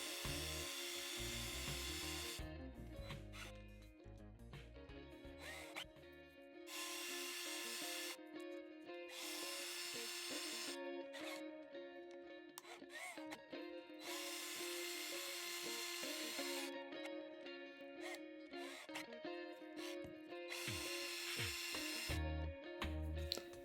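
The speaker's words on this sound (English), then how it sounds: "I put them in my hand drill and wrap a piece of emery paper around them." A small hand drill whirs steadily in repeated spells, spinning toy car axles against emery paper with a gritty rubbing hiss of abrasive on metal, close and fairly quiet.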